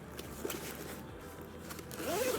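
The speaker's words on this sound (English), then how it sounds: "The zipper works nice." Zipper on the interior pocket of a Coach bag, a steady rasping pull lasting about two seconds, close and clear, with no talk.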